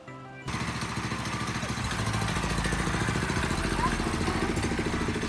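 A Chinese go kart fitted with a 196cc motor and live axle kicks into a loud, steady engine drone after a brief quiet start, its rapid pulsing rattle holding strong as it races.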